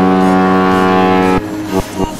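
A loud, sustained deep bus horn in Euro Truck Simulator 2 blares for over a second, then breaks into two short honks.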